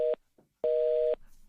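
A telephone busy tone sounds after a disconnected call: two clear, fairly loud beeps, a short one and then a longer one after a pause, on a quiet line.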